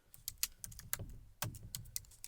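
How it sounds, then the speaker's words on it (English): Typing on a computer keyboard, a quick, irregular run of crisp key clicks in two bursts, close and fairly quiet, with no voices. "So I'll go ahead and type that in on the keyboard"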